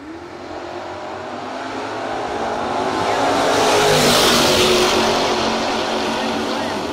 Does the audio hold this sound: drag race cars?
yes